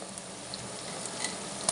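Mullet fish hitting hot oil in a clay pot gives a steady broadband sizzle, close and fairly quiet, with a few small crackles and spits and no talking.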